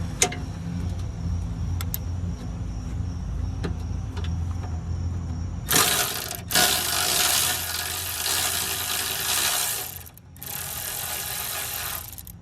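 A Milwaukee power tool fitted with a wobble extension loosens number 10 bolts on a 2013-2014 Honda CR-V engine, first quiet ratcheting handling, then a loud sustained whirring burst with brief pauses.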